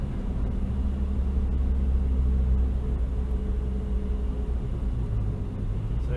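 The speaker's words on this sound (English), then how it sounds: "I'm just shifting down the gears and I'm lifting the clutch out nice and steady" Renault Twingo RS engine rumbling steadily up close while the gears are shifted down and the clutch is let out smoothly, a continuous low drone with no braking and no talking.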